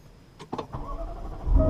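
A 2017 Jaguar F-Type coupe V8 R being started: a couple of sharp clicks, then the starter whirr and the engine catching, rising to a louder, deep rumble by the end.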